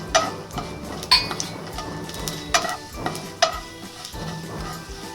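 Urad dal dropped into hot mustard-seed tempering sizzles softly in a pan, with sharp clinks and taps of a spoon against the pan striking every second or so.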